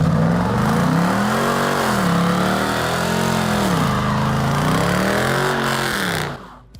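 A PT Cruiser engine revs repeatedly, loud and close, its pitch climbing and falling in several swells before cutting off abruptly at the end.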